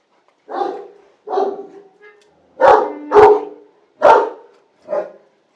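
A dog barks about six times in short, separate bursts, close and fairly loud, with brief gaps between them and no other sound.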